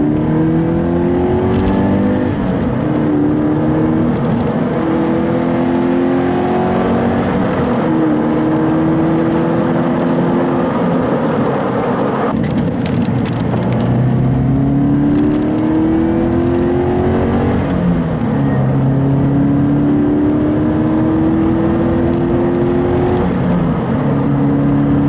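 A Scion FR-S engine revs hard through repeated gear changes, its pitch climbing then dropping in a rising and falling pattern as it accelerates at speed.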